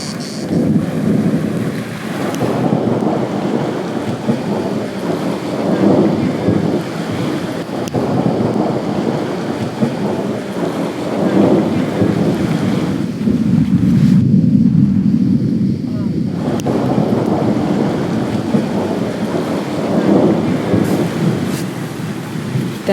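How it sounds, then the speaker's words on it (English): Heavy thunderstorm near Dubrovnik, Croatia, with a steady roar of pouring rain and wind buffeting the microphone, broken by deep rolling thunder that swells and fades over about twenty seconds; loud and continuous, no talking. "Thunder boomed and lightning lit up the sky"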